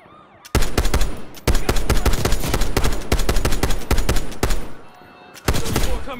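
Heavy automatic gunfire in Call of Duty: Black Ops 6 rattles out in dense, loud bursts with brief pauses, sustained machine-gun fire dominating throughout with no talk over it.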